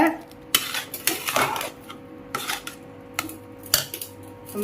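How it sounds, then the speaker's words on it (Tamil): A metal lid clanks onto a pot of chicken curry, with several light clattering knocks over a low kitchen hum. "அப்படியே ஒரு மூடி போட்டு வச்சிடலாம்"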